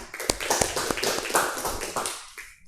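Students in a classroom clap together in uneven bursts with sharp individual claps standing out, fairly close and moderate in volume, fading away at the end.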